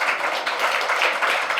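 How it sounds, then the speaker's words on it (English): Audience applause at a talk on jewellery for the divine, a brief stretch of dense, steady clapping from a crowd. "Let's have a round of applause for this"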